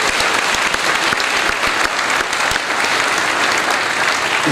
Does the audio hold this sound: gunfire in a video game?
no